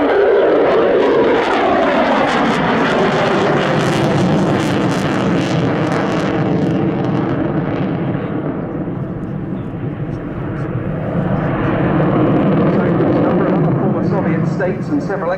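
A Sukhoi Su-27 Flanker jet roars through a sunset flying display at RIAT 2018, with loud, sustained jet-engine thunder that swells and sweeps in pitch as it passes and a narrating voice underneath.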